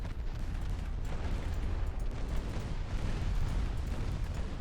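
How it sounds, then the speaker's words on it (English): Battleship 11-inch guns fire in a naval warfare game, giving a dense, continuous rumble of heavy booms and blasts with no pauses between them. "Battleship, this is your time to fire those 11-inchers."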